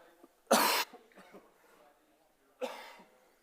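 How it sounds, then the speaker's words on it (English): Two sharp coughs, one early and one near the end, close and loud, with quiet breathing and small noises in between. "I feel like I've got a cough coming up."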